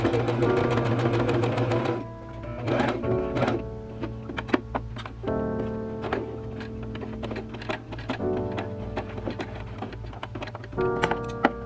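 A sewing machine hems a neckline and attaches sleeves on a thrifted top, loud close bursts of rapid stitching broken by short pauses and quieter clicks between runs.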